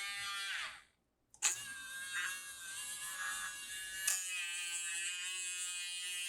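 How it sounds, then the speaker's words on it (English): A Dremel rotary tool whines at high pitch while slicing open a cardboard Astral Radiance booster box, cutting out briefly, then revving back up with a sharp jolt and a steady close buzz. "If you ever played around with the Dremel tool, they're pretty fun."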